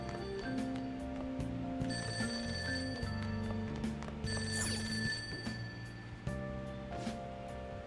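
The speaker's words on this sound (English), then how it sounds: "That ringing sound isn't coming from my cell phone." A phone rings in the video game Persona 5, a repeated electronic ringing tone layered over game music, steady and fairly loud with no talking.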